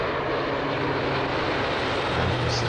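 A fixed-wing airplane passes overhead, a loud continuous roaring drone of engine noise that holds steady and swells slightly toward the end, with no talking.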